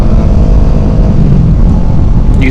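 A Kawasaki Ninja 650R motorcycle engine runs while riding, a loud steady low drone heavily mixed with wind rush, holding constant throughout with no talking.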